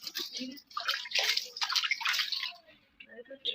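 Fish being rubbed and washed clean by hand in water, giving splashy, sloshing bursts of water with brief pauses, close and fairly loud.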